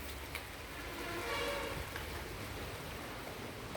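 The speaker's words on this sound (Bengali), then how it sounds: "তো বৃষ্টি থামুক" Rain falls outside a house by a main road as a faint, even hiss that holds steady throughout, with one soft knock near the end.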